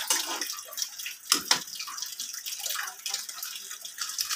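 A pot of coconut milk stew with mixed vegetables bubbles at a boil, a continuous hissing, gurgling simmer with brief louder pops, heard alone and fairly close.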